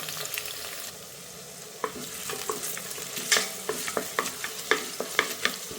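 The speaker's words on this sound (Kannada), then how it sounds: "ಈರುಳ್ಳಿ ಚೆನ್ನಾಗಿ ಫ್ರೈ ಮಾಡೋಣ" Onions fry in a pan for tomato bath, a soft sizzle broken by a string of sharp spoon-scrapes and taps as they are stirred, growing busier toward the end.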